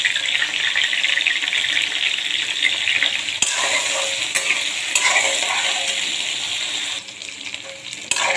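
Taro pieces fry in hot oil in a pan with bay leaf, cardamom and cinnamon, a steady close sizzle broken by occasional scrapes and clinks of a spoon stirring.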